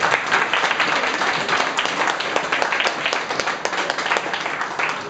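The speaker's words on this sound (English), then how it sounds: "So if we can give that a round of applause," A round of applause from the crowd at a charity single launch, sustained and fairly loud, many hands clapping in a continuous wash with no one speaking over it.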